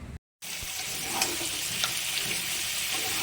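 Spice paste being sautéed with ash gourd and shrimp in a pan, a loud continuous sizzle with occasional stirring clinks, close up, after a brief silent gap at the start, with no voices.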